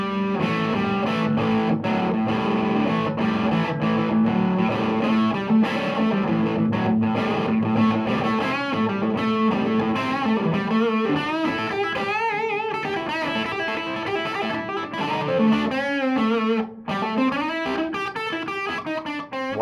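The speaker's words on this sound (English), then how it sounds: "It can get great overdriven sounds as well as great clean tones." Overdriven electric guitar through a Dr. Z Antidote amplifier plays a sustained melodic line with chords and bends, thick and distorted, loud and continuous without any voice.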